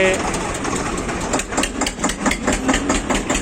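Tractor engines idle with a rapid rhythmic knocking, loud and close, at a farmers' tractor march gathering in a grain market in Bathinda, as a voice speaks over the noise.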